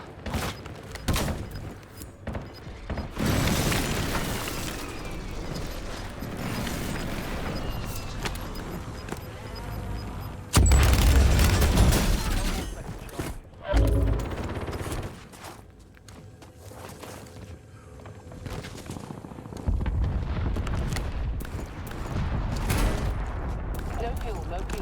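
Airstrike explosions in the Rebirth Island battle royale game land as a run of heavy, booming blasts amid rapid gunfire, buzzing drone noise and footsteps, with loud bursts clustered in the middle and scattered shots around them.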